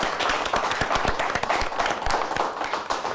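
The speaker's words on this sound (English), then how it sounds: "let's give both teams a nice round of applause" Audience applause closing a high school quiz game show between two teams, steady dense clapping filling the whole stretch at moderate level with no voices over it.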